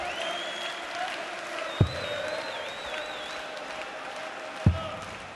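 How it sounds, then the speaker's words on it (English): Darts crowd at the International Darts Open final in Riesa, a steady wash of applause and cheering with a commentator talking over it and two sharp thumps. "Once again, the crowd playing their part here in Riesa."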